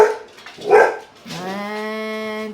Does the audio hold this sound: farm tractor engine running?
no